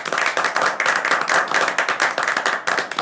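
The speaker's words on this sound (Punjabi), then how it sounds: "ਇੱਕ ਵਾਰੀ ਤਾੜੀਆਂ ਮਾਰਦੀ ਹੈ ਖੁਸ਼ ਕਰਨ ਨੂੰ" Hand clapping on a tea-time gift unboxing show, a dense, steady run of sharp claps filling the whole stretch, close and loud with no talk over it.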